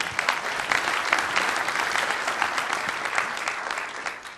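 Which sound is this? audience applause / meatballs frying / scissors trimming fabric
audience applause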